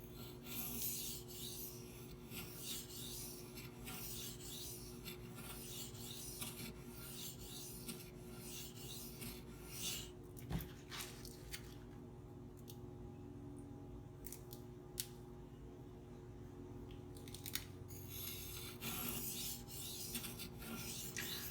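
Steady rasping strokes of a CPM-4V steel knife blade on a sharpening stone, a repeated rhythmic scrape with brief pauses between sets of passes, close and fairly quiet.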